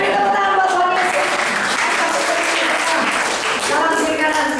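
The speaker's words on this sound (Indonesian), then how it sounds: "Beri tepuk tangan buat Tuhan Yesus" Steady, dense applause from a church congregation fills the space, loud and sustained without pause.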